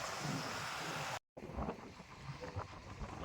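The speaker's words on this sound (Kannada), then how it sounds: "ಒಂದೊಳ್ಳೆ ಗಾಳಿ ಬೀಸ್ತಾ ಇದೆ." Wind blowing beside the Godavari river buffets the microphone in a rough, steady rush, broken by a brief dropout.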